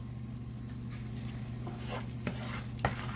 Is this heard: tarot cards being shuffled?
no